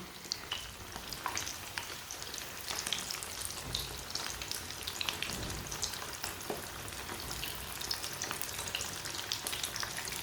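Samosas deep-fry in hot oil with a dense, crackling, bubbling sizzle that pops steadily and fairly quietly for about ten seconds, with no one speaking.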